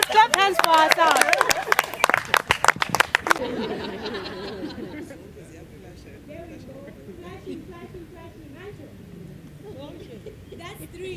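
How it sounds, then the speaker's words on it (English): A short round of group clapping, quick sharp claps from several people over lively chatter and laughter, then quieter murmuring voices. "Let's clap hands for ourselves"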